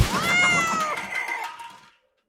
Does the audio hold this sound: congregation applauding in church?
no